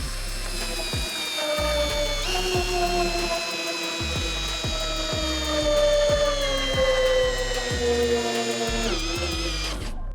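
A Dnipro-M CD-200BC compact cordless screwdriver drives a short, thick screw, its motor whining steadily across ten seconds while a rapid ratcheting clutch clicks in regular bursts, close and loud, with no talking.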